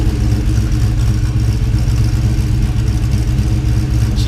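A Ford Fairmont XC GXL engine idles loud and close in a workshop hoist bay, with a deep steady rumble, a slight clatter and a light rev.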